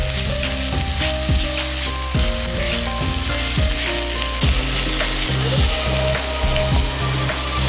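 Grated ash gourd for halwa being stirred and fried in a pan, producing a dense, continuous close sizzle throughout, with faint tonal sounds running underneath.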